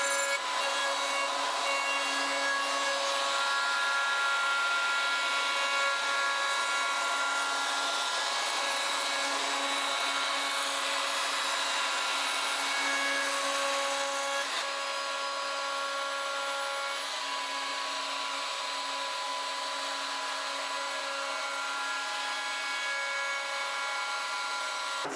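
A router cuts a quarter-inch round-over along the edges of wooden porch swing parts, giving a steady high whine with a broad rasping cutting noise that runs continuously at moderate level, alone without talk.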